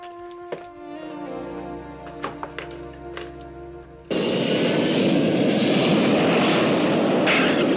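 An airplane in flight in a 1970s TV series scene: a low tonal engine hum with a few faint knocks, then a sudden, loud, steady broadband roar of the aircraft takes over for the rest, with no voices.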